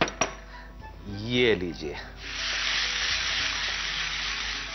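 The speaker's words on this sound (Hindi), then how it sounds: "अब हमने डालनी है इसमें दाल, ये भीगी हुई दाल, उड़द की भीगी हुई दाल" Soaked urad dal dropped into a hot pan, setting off a loud, steady hiss of sizzling that follows a brief spoken voice and some clatter.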